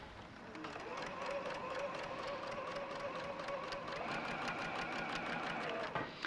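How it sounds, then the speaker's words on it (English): A sewing machine runs continuously with a fast, even mechanical whirr and clatter during a quilting demonstration, loud and steady throughout before stopping at the end. "it's the foot pedal, John."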